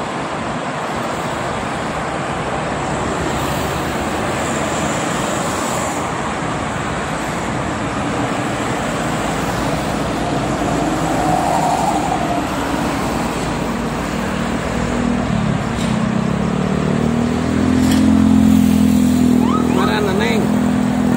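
Dense holiday traffic jam on the Jakarta–Cikampek toll road, a continuous loud wash of car and motorcycle engines and tyre noise, with a nearby engine rising in the final seconds.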